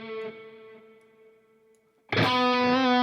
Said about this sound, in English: Maybe it'll sound better after the distortion.